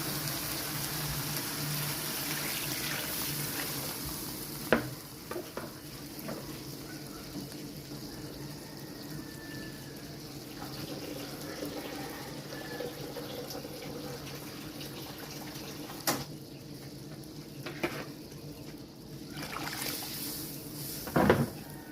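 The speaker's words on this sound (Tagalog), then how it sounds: "Lagyan na natin ng tubig." Water runs and pours into a pot of banana blossom vegetables for a simple home-cooked dish, a faint, continuous splashing flow with a few clanks of cookware.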